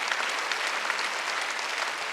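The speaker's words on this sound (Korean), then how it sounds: "박수 쳐주세요." A church congregation claps together during a Wednesday worship service, a dense, steady wash of applause that fills the hall evenly throughout.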